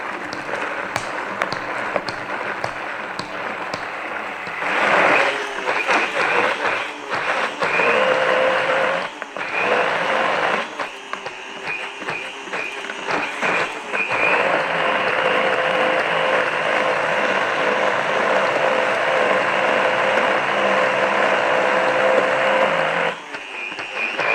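An electric blender grinds biscuits for tiramisu in a kitchen, a loud, dense whirring that pulses on and off in bursts before running steadily for a longer stretch.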